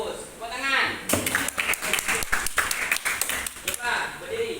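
Students in an Indonesian classroom clap their hands together after a classmate answers, a burst of quick, fairly close claps lasting a few seconds, following a voice and with talk faintly underneath.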